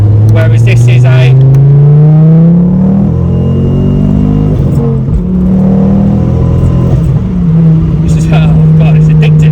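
A 330 bhp Mk2 Ford Focus ST with a hybrid turbo pulls hard from inside the cabin, its deep engine note climbing through the gears in loud, rising sweeps, with someone speaking briefly at the start and near the end.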